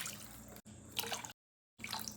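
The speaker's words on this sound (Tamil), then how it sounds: "இப்போ வந்து 2 கப் அளவுக்கு நம்ம தண்ணி சேர்த்திக்கலாம்" Water poured from a cup into thick soup paste in a pan, wet splashing and pouring in bursts with a short silent break before pouring resumes, close and fairly quiet.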